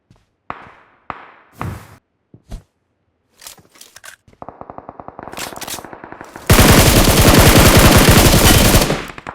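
SCAR assault rifle fire in the mobile game BGMI on an iPhone 13 Pro: scattered single shots and footsteps build into rapid bursts, then a loud, dense sustained volley of automatic gunfire, close and with no talking.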